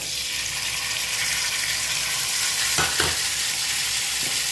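Pumpkin fries in a pan with salt, ginger paste and coriander paste, giving a loud steady sizzle and a couple of brief stirring knocks near the end.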